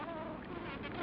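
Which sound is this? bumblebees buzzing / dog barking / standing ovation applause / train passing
bumblebees buzzing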